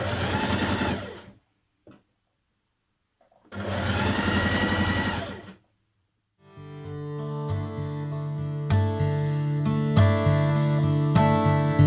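A home sewing machine hems the sleeves of a tie-front dress in two steady whirring runs, each a little over two seconds with a pause between them, followed by soft background music.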